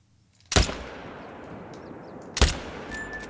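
Two loud rifle shots in the hunting game theHunter: Call of the Wild, spaced about two seconds apart, each a sharp crack with a short echoing tail.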